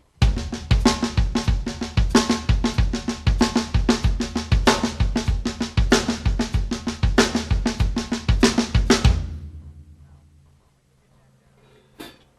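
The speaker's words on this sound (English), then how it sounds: "Now the left hand plays opposite the bass drum." Drum kit groove with the bass drum alternating against left-hand snare accents on the backbeat, a steady close-miked rhythm that plays for about nine seconds and then stops, leaving the drums ringing out.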